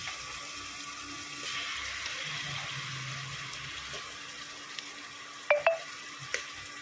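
Ginger garlic paste fries in a pan for ghee rice with a faint, low sizzle, punctuated near the end by a few sharp clinks of a utensil stirring against the pan.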